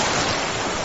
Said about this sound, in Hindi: समंदर की आवाज और तेज होती जा रही थी।